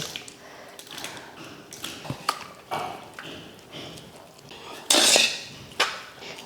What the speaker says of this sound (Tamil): நீங்கள் நல்லா கரண்டி வச்சு கலந்து விட்டுருங்க.